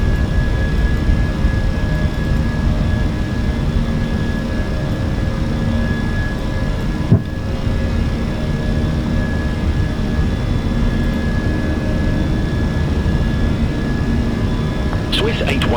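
Inside an airliner climbing out after takeoff from Heathrow, a steady loud engine roar fills the cabin while pilots talk over it.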